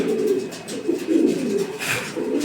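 A pigeon coos softly and repeatedly, low throaty calls rising and falling close by with no other voices.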